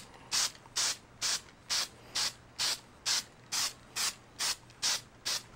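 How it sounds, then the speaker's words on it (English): Short bursts of Krylon spray adhesive hiss from a can, about a dozen evenly spaced sprays in a steady rhythm, close and fairly loud. "I just have this Krylon spray adhesive I picked up"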